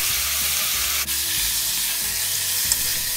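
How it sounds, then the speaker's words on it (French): Beef pieces browning in a hot saucepan for Korean seaweed soup, a loud continuous sizzle and crackle of frying with a brief utensil scrape, no talking. "Lorsque la casserole est chaude, on y dépose le bœuf. Et on va colorer le bœuf."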